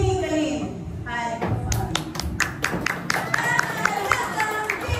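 An audience at a 70th birthday program claps to welcome a visiting guest, with scattered distinct claps building into a loose patter, mid-distance in a room with some background voices.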